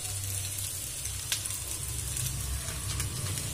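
Chicken noodles sizzle steadily in a pan over a high flame, a close, continuous frying hiss with faint scraping from stirring, with no talking.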